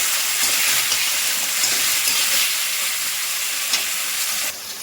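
Spice paste fries in hot oil with a steady, close sizzle while being stirred for a pomfret fish dish, with faint scraping strokes now and then.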